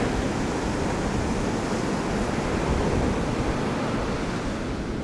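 Steady ocean surf washing onto a beach under moody clouds, a continuous broad roar of breaking waves and wind with no voices.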